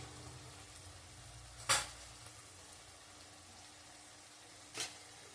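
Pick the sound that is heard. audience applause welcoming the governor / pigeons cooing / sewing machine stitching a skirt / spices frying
spices frying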